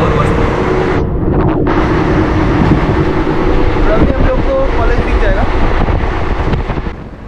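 Steady loud rumble of a passenger train riding through tea gardens near Jalpaiguri, continuous rolling noise with wind buffeting throughout.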